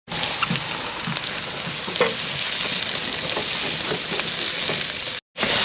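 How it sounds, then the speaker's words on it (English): Spices and lamb sizzle and fry steadily in a pan with tomatoes, onions, garlic, coriander and green beans, a dense continuous crackle broken by occasional stirring clatters, close and loud, ending with a brief drop-out. "I've got the spice in there, making sure that it does fry a little bit to wake up the spices"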